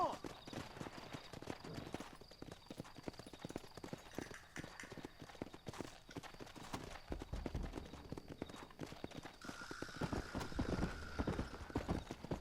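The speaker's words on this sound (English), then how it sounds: "Looks like Carlos left us some horses." Horses trot in Red Dead Redemption 2, their hooves clip-clopping in quick, steady rhythms at close range, with a brief whinny and game sounds mixed in and voices speaking over parts of it.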